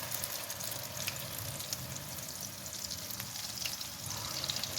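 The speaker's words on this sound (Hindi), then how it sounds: "अब इसमें हम लोग भिंडियाँ डाल देंगे।" Okra pieces drop into hot oil already crackling with kalonji seeds, producing a soft, even sizzle with light spits and pops throughout, fairly quiet and with no talking.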